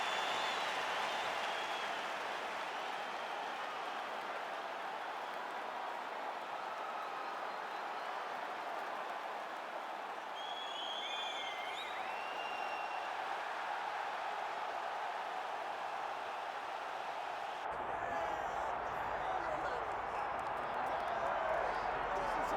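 Loud, sustained crowd roar filling a UFC octagon arena, with a commentator's voice talking over it throughout.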